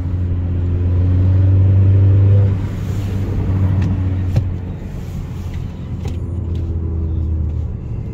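A 2020 Honda Accord fitted with a Borla S-Type exhaust burbles with a deep, steady low rumble, rising slightly early on and then settling into an even idle-like drone close by.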